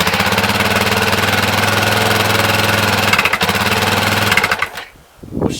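Electric starter cranking a KTM 530 motorcycle engine, a loud rapid mechanical churning pulse held steadily for several seconds before it cuts off without firing, then a brief dip and a short burst of noise.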